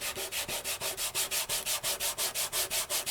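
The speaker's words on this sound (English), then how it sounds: "And then I'm going to burnish this side." Stamped glitter paper is burnished by rubbing, a brisk run of about fifteen even back-and-forth strokes, close and dry-sounding like light sanding, with no voices.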